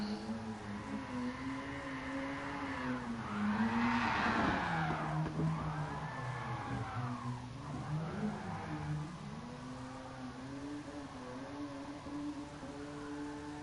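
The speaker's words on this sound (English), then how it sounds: "it is a bit of an odd drift car in that the sound of the engine doesn't sound like it's revving very high when you're at low revs" A drift car at Bathurst holds a steady engine drone that rises and falls through long revving sweeps, with tires skidding and squealing at moderate distance and no talk over it.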